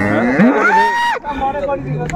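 At a rural cattle market in Dinajpur, a dairy cow or calf lets out a loud, drawn-out moo close by, followed by a second lower call while market chatter murmurs behind.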